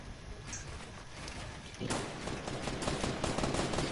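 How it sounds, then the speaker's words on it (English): Gunfire in the video game Fortnite, with a quieter stretch that gives way to a loud barrage of rapid shots near the end. "I'm getting sniped."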